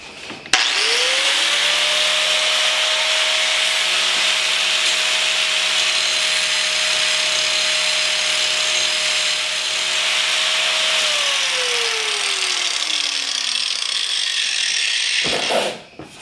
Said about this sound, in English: Turn your grinder on and shave off a little bit of this.